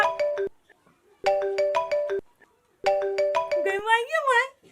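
A mobile phone plays a melodic, bright ringtone in three repeated bursts with short gaps; a voice speaks over the end of the last burst.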